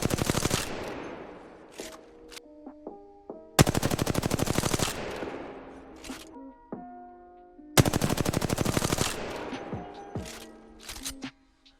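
R-301 rifle fire in the Apex Legends video game comes in three long, rapid automatic bursts, loud and close. Each burst ends with a ringing tail and a scatter of brief clinks and weapon handling sounds.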